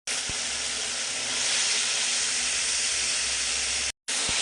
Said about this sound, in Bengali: এবার আমি এর মধ্যে ধুয়ে বেছে রাখা গুগলিগুলোকে দিয়ে দেবো।